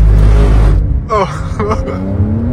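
A rear-wheel-drive Porsche 992 Carrera S with 450 horsepower spins its rear wheels, a loud, close engine roar for the first second that then drops to a lower rumble while someone talks over it.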